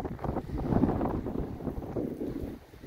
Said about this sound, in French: Il y a beaucoup de vent encore.